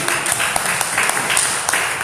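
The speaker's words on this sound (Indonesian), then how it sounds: "Kita tepuk tangan, haleluya" A church congregation applauding during a sermon, dense clapping at a steady level across the short stretch, with a few voices mixed in.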